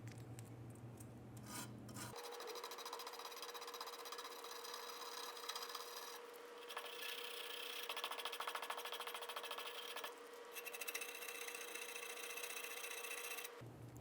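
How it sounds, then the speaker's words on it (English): A wire brush scrubs the brake shoe contact points on the rear drum brake backing plate of a 2000–2007 Ford Focus, a steady close rasping scrape with brief pauses between strokes and no talking. "Go around using a wire brush and clean up all of the contact points for the brake shoe."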